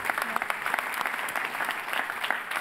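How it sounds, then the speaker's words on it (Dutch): Warm audience applause for the politicians after a debate at an essenscia Vlaanderen annual event, steady dense clapping from a hall full of people at moderate distance. "geef ze een laatste hartelijk applaus, onze heren en dames toppolitici"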